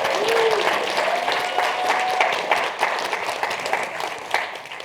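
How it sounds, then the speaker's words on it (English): A crowd at the Skoll World Forum 2023 applauds steadily for about five seconds, dense clapping with a few cheers and whistles mixed in, holding loud throughout with no speech. "I think we should do an extra round of applause for Kim Foxworth, Rodney's mother"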